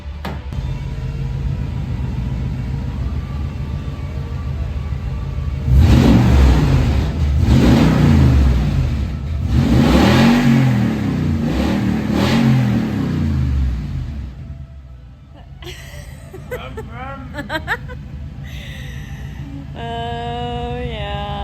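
A truck engine with its exhaust missing revs hard in several loud surges over a steady idle rumble, then settles back to idling while a few metallic clanks and squeaks sound nearby.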